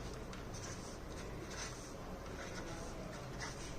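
A pen scratches across paper or a board while a frequency table for a median and mode lesson is written out, making soft rhythmic strokes close by with steady background hiss.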